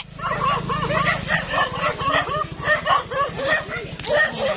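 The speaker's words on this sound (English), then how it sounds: "We're scared of the dogs." Several dogs bark and yip rapidly and continuously close by, a loud overlapping chorus that runs for the whole stretch, with a steady low engine-like drone underneath at first.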